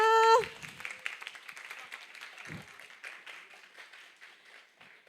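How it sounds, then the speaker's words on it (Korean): A short tone gives way to a smattering of clapping from a small crowd at a church youth service, fading gradually with faint voices underneath. "박수!"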